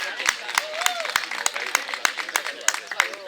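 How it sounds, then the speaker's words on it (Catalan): Clapping from the audience at a clown show, a loose rhythm of sharp individual claps spaced roughly evenly, mixed with nearby voices and chatter. "Un aplaudiment per l'Elna."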